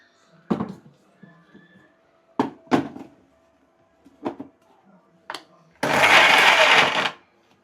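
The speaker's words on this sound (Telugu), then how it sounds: "అరహో ఇప్పుడైతే మిక్సీ పట్టేసుకుందాం." A mixer grinder blending paste for paneer butter masala whirs in one loud, steady burst of about a second, after several short clicks and knocks of the jar being handled.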